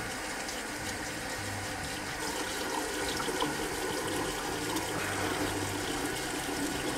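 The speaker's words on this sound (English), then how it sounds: "Starting to get a little hot water." Hot tap water runs steadily into a sink while a shaving brush is rinsed, a continuous close hiss and splash of flowing water with no talking.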